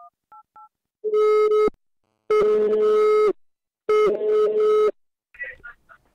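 A telephone call goes through: brief dialing beeps, then three long, loud ringback tones separated by pauses, followed by faint voice sounds.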